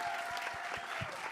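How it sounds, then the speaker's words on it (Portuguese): Studio audience clapping for a professor on a podcast panel, a brief, fairly quiet patter of hands with a few sharper individual claps. "Salva de palmas para o professor Luiz."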